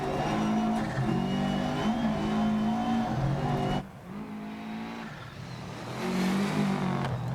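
A Subaru Legacy Group A rally car with a boxer engine in the game DiRT Rally, a loud, sustained engine drone at high revs, dipping briefly mid-run as it lifts off, then climbing again.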